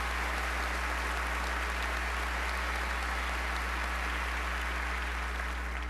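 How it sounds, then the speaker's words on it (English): Steady applause fills an NFL Honors awards ceremony hall, a dense even clapping from a large audience with a low hum beneath and no voices over it. "Yeah, big round of applause for them."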